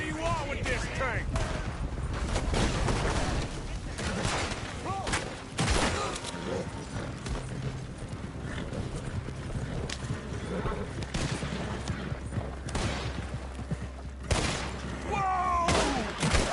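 Gunfire in a shootout in Red Dead Redemption 2: dense rapid shots crackle and pop continuously, near and far, with shouting voices mixed in and hoofbeats underneath.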